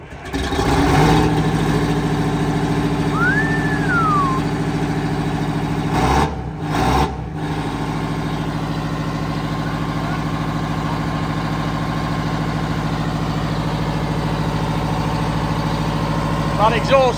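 An Alvis Stalwart engine idles with a steady low rumble and an exhaust that blows slightly, close and continuous, briefly interrupted by a couple of thumps, with people talking over it.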